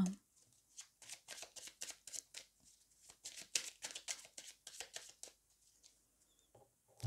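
Cards from a Belline oracle deck being drawn and handled, a quick run of close papery flicks and riffles, quiet and busy, with faint murmured speech under them.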